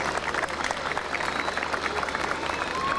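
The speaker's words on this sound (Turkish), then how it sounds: "Başkanım için büyük bir alkış rica ediyorum." A crowd applauds for the mayor at a civic gathering in Esenyurt, a continuous, evenly spread clapping that holds at a moderate level from start to finish.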